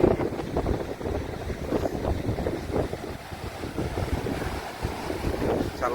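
Strong storm wind on the Visakhapatnam seafront buffets the microphone in rough, rumbling gusts, with a broad roar of sea surf underneath.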